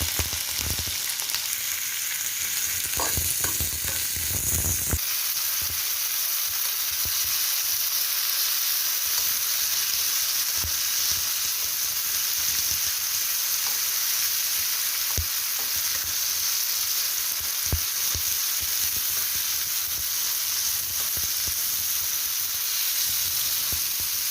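Saltfish sizzling and frying in a pan with seasonings in a Jamaican-style saltfish dish, a steady close hiss running throughout with a few louder stirring knocks near the start.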